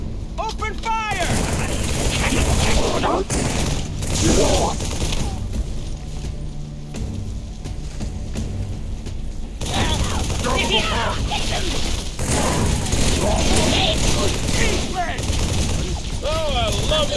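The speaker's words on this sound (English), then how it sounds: "Open fire!" Rapid gunfire in the Halo 3 video game crackles close and loud in bursts, mixed with shouting voices and game effects, a dense barrage that pauses briefly before resuming.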